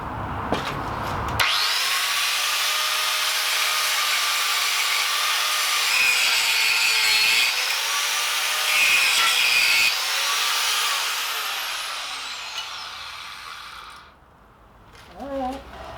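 An angle grinder works the welds on a steel quench tank, a loud sustained whine with shifting pitch as the disc bites and eases, winding down toward the end, with a brief voice after it stops.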